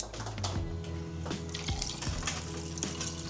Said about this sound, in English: Top that off with your water.